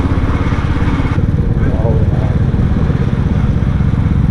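A motorcycle rides a cloudy mountain road toward Darjeeling, its engine a loud, close, continuous chugging rumble mixed with wind buffeting.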